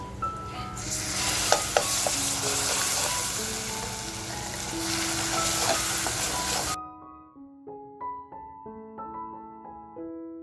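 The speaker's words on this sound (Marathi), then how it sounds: "आपला मसाला असा छान फ्राय झालाय" Homemade masala frying in a pan for a Malvani-style sardine curry, a close, dense sizzle with occasional stirring clinks for about seven seconds, then cut off abruptly and replaced by a light plucked melody.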